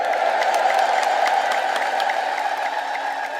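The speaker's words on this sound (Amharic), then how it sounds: "እልል በሉ።" A congregation ululates together in response to a preacher, forming a sustained, shrill, wavering chorus of many voices at a steady, fairly loud level throughout, fading slightly at the end.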